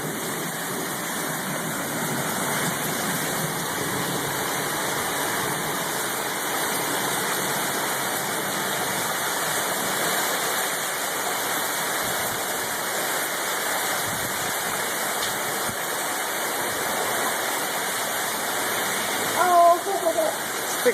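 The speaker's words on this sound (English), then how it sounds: "We're in Destin, Florida, and we are getting the tropical storm right now." Heavy tropical storm rain and floodwater in Destin, Florida make a continuous, even rushing roar, with a faint tone near the end.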